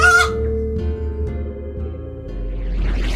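Hen clucking as a sound effect in a children's audiobook of The Little Red Hen, a short cluck at the start followed by a sustained musical tone and rising rooster-like calls toward the end, loud and close.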